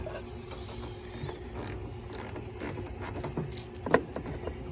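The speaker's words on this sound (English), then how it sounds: "It's going to be an 8mm little bolt there. Just unscrew that." Ratchet wrench clicking as it backs out a small 8mm bolt on the starter of a 1998 GMC Sierra 1500 pickup, a steady run of close mechanical clicks with a sharper knock near the end.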